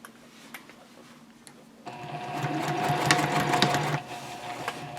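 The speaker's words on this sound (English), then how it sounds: "we can go ahead and start stitching on the other lines" Sewing machine stitching lines across a quilted fabric basket, a steady mechanical whir that starts abruptly partway through, runs close and fairly loud, then eases off near the end.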